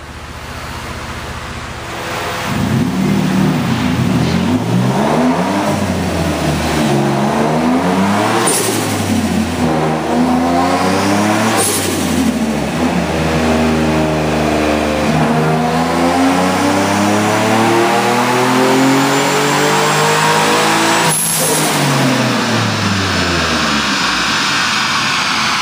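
Turbocharged Genesis Coupe 3.8 V6 on a dyno, revving hard through fourth gear, engine pitch sweeping up and down repeatedly in a loud, sustained roar with turbo whoosh.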